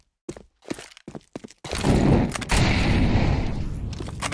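Gunfire in CS2 while shooting at enemies: a few quick separate shots, then a loud, dense burst of sustained firing with booming low rumble, close and intense, with no talk.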